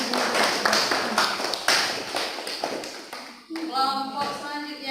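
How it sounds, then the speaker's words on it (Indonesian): Classroom applause for a student group, a burst of irregular clapping from several people that fades out, followed by a voice speaking. "Ya, kita kasih aplaus untuk kelompok 4."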